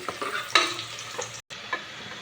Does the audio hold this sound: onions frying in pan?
yes